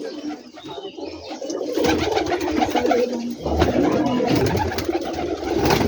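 Rajshahi Giribaj pigeons coo in a loft, a throaty continuous chorus that swells after a quieter start, with shuffling and wing noises nearby and no talking.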